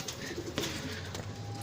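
Pigeons coo inside a loft, low rolling calls overlapping in the background with a few sharper bird notes and faint clatter, close and moderately quiet.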